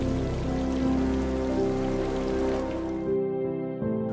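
Steady rain falls on a surface, a dense continuous patter with a low rumble beneath it, loud and even throughout, thinning slightly near the end.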